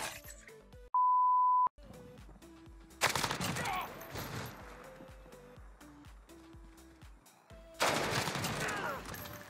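Gunfire in the Modern Warfare video game, a tone beep early on followed by bursts of rapid automatic shots with brief pauses between, plus scattered game effects and a faint voice.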